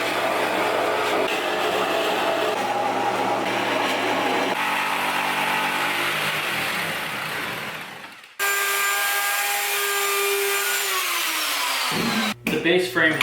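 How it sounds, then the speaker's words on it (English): A drill press fitted with a 1-inch Forstner bit bores into wood in a workshop, a steady motor whine with grinding cutting noise that stops abruptly, followed by the motor spinning down and brief clattering. "I'm going to use my drill press and a 1-inch Forstner bit to start the handles for part B"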